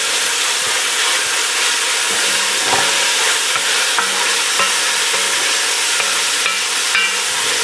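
Onion and pepper sizzle loudly in a hot pan, a steady dense frying hiss with occasional scrapes and knocks from stirring, close up and with no talking.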